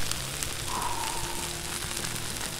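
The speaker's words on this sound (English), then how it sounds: "that cheese is sizzling" Steady crackling sizzle of cheese on a bacon smash burger frying on a hot Blackstone griddle, a constant fizzing hiss with soft pops, close and continuous.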